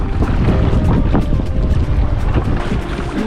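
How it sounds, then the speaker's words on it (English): Strong wind buffets the microphone at sea on the Mediterranean during a rowing crossing, a constant loud roar with gusty rumble and rushing water under it, no voices. "With every passing hour, the wind built, blowing straight into our nose."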